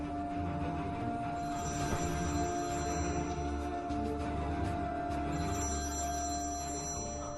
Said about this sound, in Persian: گوشیم زنگ میزنه، جواب میدی؟